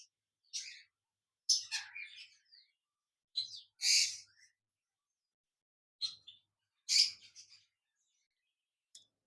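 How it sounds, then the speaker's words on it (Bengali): A pair of caged golden finches give bright, high chirps and short twittering bursts in scattered clusters separated by silent gaps, close and fairly quiet. "খাঁচা নাম্বার 16, এখানে রয়েছে এক জোড়া গোল্ডেন ফিন্স"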